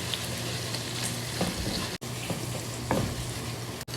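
Flour cooks in a pan with a steady close sizzle, broken by a few stirring scrapes and two sharp knocks, for a simple pasta sauce.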